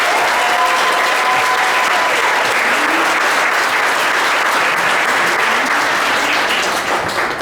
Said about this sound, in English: Round of applause for our graduates.